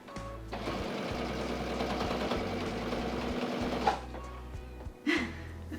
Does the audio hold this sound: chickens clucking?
no